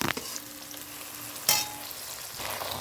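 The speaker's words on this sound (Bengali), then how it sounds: "পেঁয়াজটা এরকমই ভাজা করছি, এর থেকে বেশি ভাজা করব না" Steady frying sizzle of onions, tomato and spices in a pan for a crab curry, with a brief louder burst of hiss midway, continuing evenly without voices.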